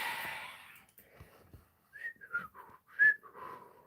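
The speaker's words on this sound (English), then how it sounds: "I'm just going to whistle innocently." A person whistles a short, playful tune of a few rising and falling notes, fairly close and alone after a soft breathy start.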